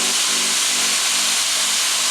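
Seasonings and vegetables frying in a pan give off a steady, close hiss of sizzling that runs unbroken from start to finish, with no talking over it.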